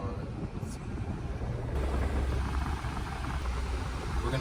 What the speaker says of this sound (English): the AC is so loud that we're not gonna be able to talk while it's on